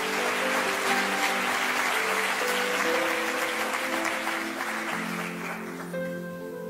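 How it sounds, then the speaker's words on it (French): A church congregation applauds loudly and steadily for several seconds, a dense wash of clapping with sustained music or a held organ-like tone underneath, fading slightly at the end. "On peut acclamer très fort pour le Seigneur pour sa vie."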